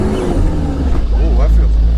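A Toyota Surf's 2L-TE diesel engine fires up and runs with a steady low rumble and a brief rising rev, loud and close, while a voice talks over it.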